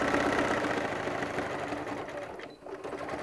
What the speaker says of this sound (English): while you're at the serger, flip your pockets up and go ahead and serge them down